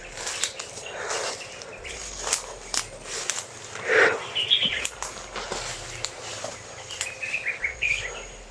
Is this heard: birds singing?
yes